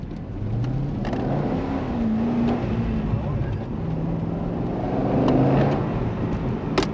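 A 500 hp Corvette C6 Z06 accelerates hard, its engine note rising in pitch through gears as a steady, loud in-car drone, with people talking faintly over it.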